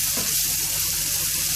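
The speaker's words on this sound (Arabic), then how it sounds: "احط التوابل بتاعتي كلها كده مع الثوم والبصل، هديها تقلبتين" Spices, garlic and onion sizzle steadily in a hot pan while being stirred, a dense close frying hiss with no talk.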